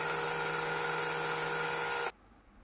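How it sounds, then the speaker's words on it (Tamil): A drill machine bores holes for fitting a servo horn on an RC plane, giving a steady high-pitched whine that runs loud and close for about two seconds, then stops abruptly. "ஹார்ன் ஃபிட் பண்ணுறதுக்கு நம்ம ட்ரில் மிஷினை வச்சு ஓட்ட போட்டுக்கிறோம்."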